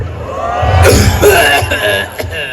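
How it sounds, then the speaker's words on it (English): Someone coughs a few times, loud and close, with a murmur of voices in the background. "Why is this person coughing?"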